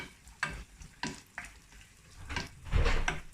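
Cashews and raisins frying in ghee for sweet pongal, crackling sizzle with several sharp stirring scrapes against the pan, growing louder and busier toward the end.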